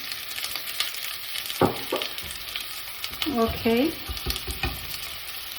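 Pumpkin with sugar and thyme sizzles on high heat as it is stirred in a pan; close frying hiss with spatula scrapes, and a brief voice speaks once midway.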